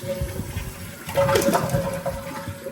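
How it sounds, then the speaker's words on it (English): A Kohler toilet flushes and refills through a silent fill valve kit, a steady rush of water that swells midway and keeps running, close and moderately loud with no talking. "give it one more final flush to reserve"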